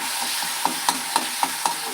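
Onions and tomatoes fry in a pan while being stirred for a Tamil kuzhambu, giving a steady soft sizzle with several quick scraping stir strokes at a regular rhythm, close by and with no talking.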